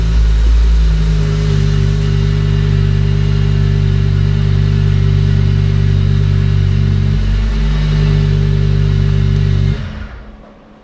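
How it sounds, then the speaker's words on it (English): A BMW E39 M5 fitted with a swapped S85 V10 engine idles loud and close indoors with a steady low drone and a brief rise in revs, then cuts off abruptly near the end. "Rev it a little bit."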